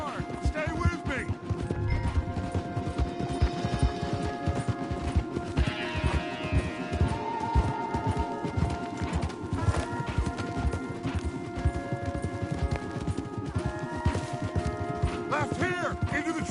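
Rapid hoofbeats of galloping horses drum steadily beneath a busy musical score, with occasional voices layered over the action, in a PS4 video game.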